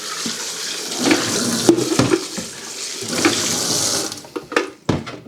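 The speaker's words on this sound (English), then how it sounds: "Give that a final rinse out." Water runs from a tap to rinse out the waste tank of a Vax SpotWash carpet and upholstery cleaner, a loud close splashing gush with sloshing and knocks from the tank, easing off near the end.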